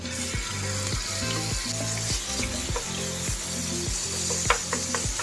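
Chicken breast sizzles in a pan for pancit canton with a continuous bright hiss, while a rhythmic, close series of ratcheting clicks and knocks repeats throughout, like a turning mechanism or utensil working steadily.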